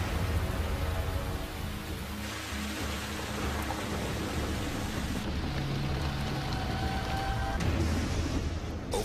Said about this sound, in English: 7 more inches of rain drench the jungle